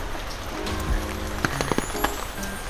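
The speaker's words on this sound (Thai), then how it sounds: "ตอนนี้ฝนกำลังตกอีกแล้วนะคะ" Rain falling steadily outdoors along a garden walkway, a soft continuous patter with a few sharper drops, heard alone with no talking.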